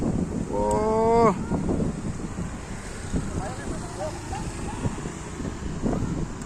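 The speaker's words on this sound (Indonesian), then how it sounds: "Angin teko." Strong wind buffets the microphone at an outdoor street food stall, a continuous rough roar throughout, with a brief tonal squeal early on and people talking over it.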